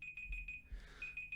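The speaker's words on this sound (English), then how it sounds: "Let's make sure that timer is turned off." A timer alarm beeps in quick, steady pulses. Each beep is a thin electronic tone, and the beeping breaks off briefly partway through.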